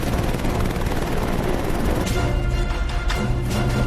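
Loud, continuous rotor thrum of a helicopter, dense and steady throughout, with some rushing noise.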